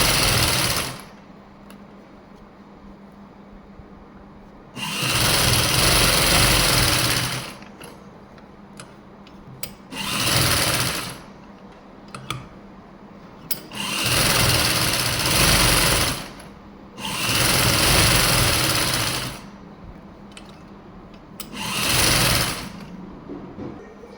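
A sewing machine stitches lace onto a blouse sleeve in five loud, steady runs of several seconds each, separated by quiet pauses and small handling clicks.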